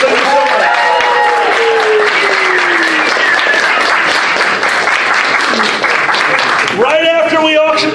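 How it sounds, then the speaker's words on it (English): A live show's audience breaks into sustained, dense applause that fills the room, with voices calling and talking over the clapping. "Guys, let's give Uncle Kage a round of applause."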